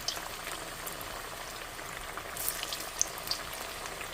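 Spinach and puffed-rice pakoras frying in hot oil, a soft, even bubbling sizzle with a few faint crackles and pops, fairly quiet and without talk.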